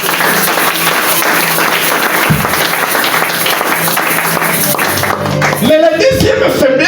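A church congregation applauds and cheers the Lord in a steady, dense wash of clapping and crowd voices that holds throughout, swelling slightly near the end as music or voices rise.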